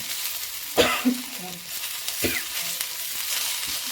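Curry leaves fry in a pan for an Andhra-style pachadi with tondekai, giving a steady soft sizzle broken by a few sharp crackles and stirring scrapes up close.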